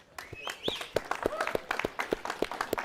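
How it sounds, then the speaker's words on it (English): Scattered clapping rises at a Kiko goat auction sale, with sharp, fairly regular claps from a small crowd. Voices and tonal calls sound in the background. "Let's give the folks in the back a round of applause for that."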